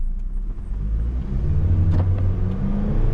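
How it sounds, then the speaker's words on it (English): A 2023–2024 Honda HR-V engine rumbles low and builds as it accelerates, the revving rising in pitch and loudness, heard from inside the vehicle. "let's go ahead and put this in drive and see how quickly it can accelerate"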